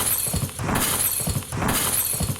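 Glass shattering in the Warzone video game, two loud crashing bursts of breaking glass with bright high sparkle, each followed by a tinkling decay, heard close with no voices.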